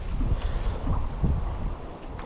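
Gusty wind buffets the microphone in low rumbling bursts, steady and close, with no voices.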